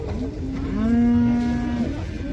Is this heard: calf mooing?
yes